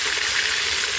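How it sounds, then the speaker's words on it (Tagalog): Steady, dense sizzling of pork chops frying in a hot pan, close and continuous with no voices. "Prito ulit natin yung mga natirang pork chop"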